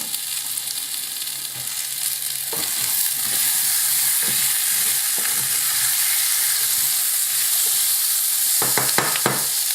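Chopped onion, garlic and tomatoes sizzle and fry in oil in a pan for a vegan stinging nettle curry. A loud, continuous hiss runs throughout, with scattered clicks and knocks from stirring and the pan.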